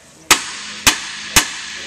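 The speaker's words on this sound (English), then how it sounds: "just grab a hammer and make sure you hit right here on the knuckle" Three sharp metallic hammer blows ring out about half a second apart, each loud and close, striking a steering knuckle to loosen a ball joint, with short decaying rings.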